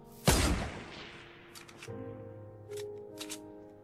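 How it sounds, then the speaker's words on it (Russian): Soft Minecraft music plays inside a Fortnite match, its sustained low tones entering after a sharp opening gunshot-like burst, with faint clicks scattered over the quiet background. "Это музыка из Майнкрафта."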